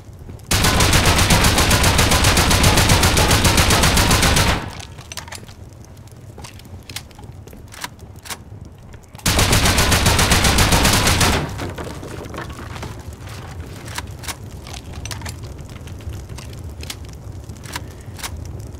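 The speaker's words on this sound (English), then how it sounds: "Shotgun trap." Shotgun trap in a survival video game firing two sustained bursts, each a dense loud blast of several seconds separated by a quieter stretch, with scattered clicks and clatter in the background.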